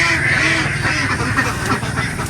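Noisy duck or goose kept as the main guard on a duck farm, calling loudly and continuously close by with harsh, repeated honking quacks and no talk.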